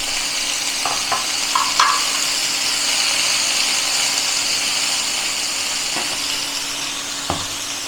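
Pumpkin and potato pieces frying in oil in a pan, a steady loud sizzle with a few clinks and scrapes of the spatula stirring, close and alone without talk.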